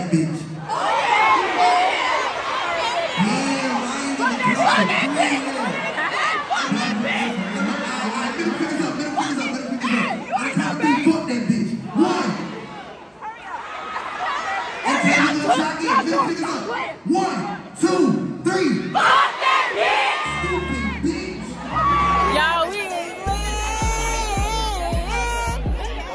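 A homecoming concert crowd at a university event screams and cheers loudly and continuously, with shrill voices and shouts mixed over a pounding bass-heavy music track that grows stronger toward the end.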